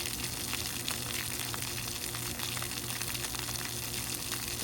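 Water sprays and gushes in a steady, loud rush close by at an outdoor spot where people are getting splashed, with no talk over it.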